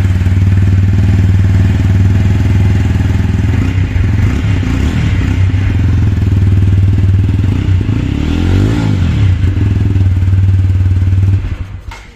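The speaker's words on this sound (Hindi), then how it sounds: "न्यूट्रल पे है बाइक और ये हमने स्टार्ट कर दिया।" A TVS Apache RTR 160 4V motorcycle, set in neutral, starts up and settles into a loud, steady, close-up idle with an even low thump that runs throughout before cutting off at the end.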